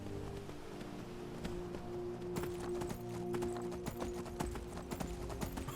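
Horse hooves gallop in the Skyrim video game, a rapid, steady clip-clop rhythm of many close, sharp impacts over a low drone throughout.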